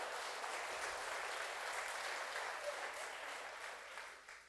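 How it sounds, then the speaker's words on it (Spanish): A church congregation applauds with steady, dense clapping that fills the room for several seconds and then gradually fades toward the end. "Dale un aplauso al Señor"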